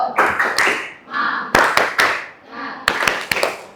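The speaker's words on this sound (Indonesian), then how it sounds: "Tepuk semangat." A vocational high school class does a rhythmic spirit clap, with bursts of sharp hand claps in a quick set pattern. Group voices chant between and over the claps, loud and close in a room.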